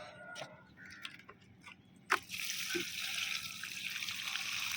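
About a litre of mustard fertilizer water poured onto a pruned jasmine plant in a large 25-litre bucket: faint trickling and small knocks, then a sudden splash and a steady hiss of liquid soaking into the soil.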